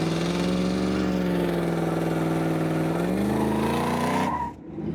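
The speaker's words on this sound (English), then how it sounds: "Oh, spun the tires a little bit." A truck launching at a drag strip with its tires spinning: loud, steady engine howl with a whine that climbs in pitch before the sound drops away abruptly.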